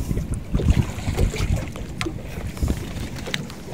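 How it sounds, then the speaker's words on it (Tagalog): Outdoor water and wind noise around a small boat (bangka) near the shore at Mati, with low rumbling wash and buffeting at steady moderate loudness and no speech. "Yan po ang kanilang bangka"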